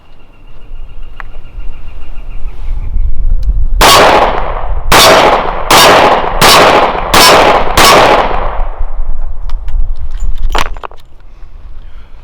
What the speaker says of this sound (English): We're going to use 125 grain jacketed hollow point plus P rounds at the silhouette at 12 yards.